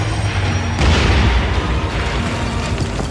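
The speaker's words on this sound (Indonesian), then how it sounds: "Ledakan tersebut seketika menghancurkan beberapa bangunan sekte" A deep, rumbling animated explosion with a sudden loud surge that rolls on in a heavy, sustained roar, like sect buildings crashing and settling.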